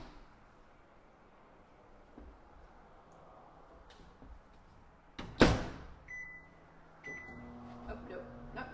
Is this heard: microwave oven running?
yes